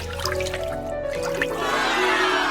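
Water drips and trickles into a small toy dollhouse bathtub, a light wet patter close by with a steady tonal hum underneath.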